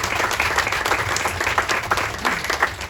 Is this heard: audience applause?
yes